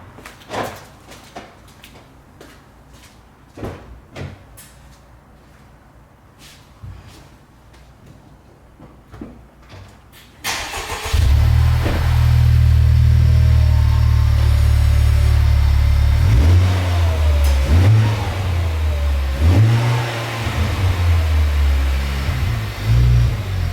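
A Honda Civic Type R sits quietly through a few faint clicks and knocks, then its engine fires up loudly. It settles into a deep idle and is revved several times, with rising and falling surges close by.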